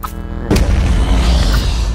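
A heavy, booming blast erupts suddenly and rumbles on loudly, a deep synthetic Cob Cattail explosion in Plants vs Zombies, with no voices.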